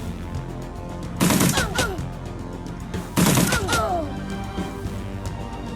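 Gunfire from the video game Shadowrun Dragonfall sounds in two separate loud bursts of rapid shots a couple of seconds apart, each trailing off with whooshing ricochet-like tails over a steady game background.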